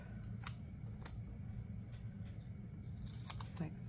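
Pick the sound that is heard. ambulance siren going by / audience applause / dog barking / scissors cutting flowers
scissors cutting flowers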